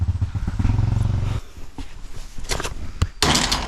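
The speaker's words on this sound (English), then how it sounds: "are you just going to rev your engine?" A nearby vehicle engine revs and idles roughly outdoors, with thumps and clatter mixed in as the rumble rises and falls.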